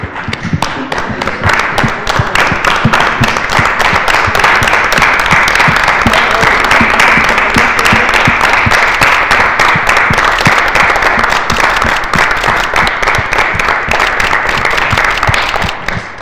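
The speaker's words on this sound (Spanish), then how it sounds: "nos marca el momento de dar un aplauso como un pequeñísimo homenaje a los trabajadores de la salud" A room full of people at a Spanish-language press conference claps in tribute to health workers, loud sustained applause with crisp individual claps that swells quickly and stays steady for about sixteen seconds before easing at the end.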